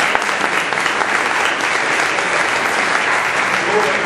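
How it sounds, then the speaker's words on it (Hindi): Audience at a Women's Day sermon breaks into loud, sustained applause, dense crowd clapping filling the whole stretch with a faint voice beneath. "ताली बजा सकते हैं तो बजाने"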